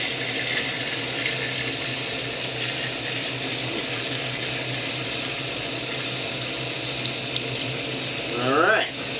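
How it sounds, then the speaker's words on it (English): Beer wort pours and splashes steadily into cold water in a fermenting tank, a continuous close rushing gush with gurgling toward the end and faint voices underneath. "the wort right here into this cold water in the fermenting tank"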